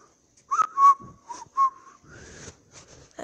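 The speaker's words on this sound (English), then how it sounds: "The whistle. Same one." Someone whistles a short tune of several clear, bright notes with small gaps between them, close by and alone.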